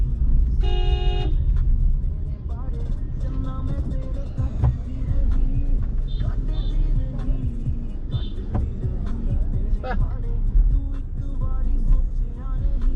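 Busy road traffic with a steady rumble of passing vehicles, a car horn toot near the start and a few shorter honks later, all continuous and fairly loud.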